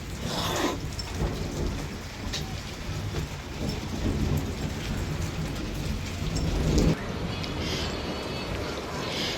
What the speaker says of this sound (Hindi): उसी टाइम यहाँ पे इतनी तेज बारिश हुई और जब तक हम नीचे गेट स्टेयर्स उतर ही पाए थे कि तब तक यहाँ पर ओलों की बरसात होनी शुरू हो गई थी।